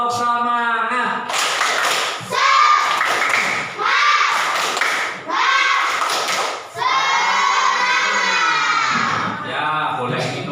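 Grade 4 schoolchildren in a classroom do the tepuk semangat clapping chant, with rhythmic bursts of clapping and thumps mixed with loud children's voices chanting together in several phrases.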